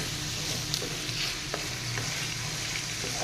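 Spiced potato slices being stirred in a hot pan, a soft steady sizzle with occasional scraping clicks of the spoon, quiet and close, with no voices.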